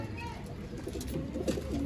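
Old line pigeons coo in a loft in Shivajinagar, Bangalore, soft repeated rolling coos rising toward the end over a steady background hum.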